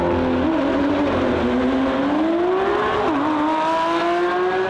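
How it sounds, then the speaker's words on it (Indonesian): An orange Lamborghini toy race car plays a loud, continuous engine sound effect, a steady droning whine that shifts slowly in pitch and carries on without a break. "Ini ada mobil balap warna oranye."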